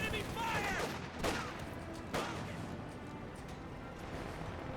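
Gunfire and battle noise in the real-time strategy game Company of Heroes with paratroopers under attack: a few sharp, prominent shots in the first half, then a steady rumble of distant shooting, fairly quiet overall.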